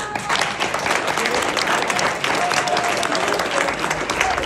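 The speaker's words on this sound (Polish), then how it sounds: "Wielkie brawa" Sustained, loud applause from an audience at an education event, a dense wash of clapping that holds steady for several seconds without pause.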